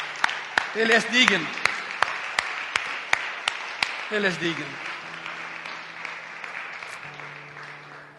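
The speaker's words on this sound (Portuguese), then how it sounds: "Y dá un aplauso a Cristo una vez más" A church congregation claps in a steady, even rhythm while someone speaks and calls out briefly over it, the beat carrying on and slowly fading.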